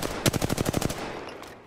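Apex Legends gunfire: a rapid automatic burst of about eight sharp, evenly spaced shots, close and loud, ending abruptly with a faint trailing echo.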